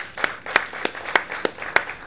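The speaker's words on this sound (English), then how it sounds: "let's give her a big applause." Applause at a panel session on customary law: a handful of evenly spaced claps, about three per second, sounding thin and sparse, as if from a small group or a single person.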